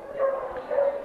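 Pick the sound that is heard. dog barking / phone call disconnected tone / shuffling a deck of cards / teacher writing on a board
dog barking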